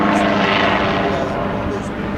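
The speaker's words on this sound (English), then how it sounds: "It's a tail rotor spin pivot, and as you can see, he makes it look a lot easier than it is." A helicopter at an airshow performs a tail rotor spin pivot, its engine and rotor roar loud and steady, while an announcer talks over it.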